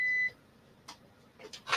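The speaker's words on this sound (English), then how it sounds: "Just switch off a beep, which is my emergency electricity supply" A short electronic beep sounds from an emergency electricity supply unit, a steady tone lasting about a quarter second, followed by faint soft clicks and rustling handling noises.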